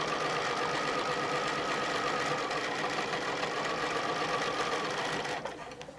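A domestic sewing machine runs steadily while stitching ruler work, a close, loud, continuous mechanical whir and rapid needle chatter that winds down near the end.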